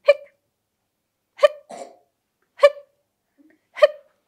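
Voice imitating a frog's hiccups in a storytelling setting, four sharp, loud hiccup sounds evenly spaced about a second apart with near silence between them.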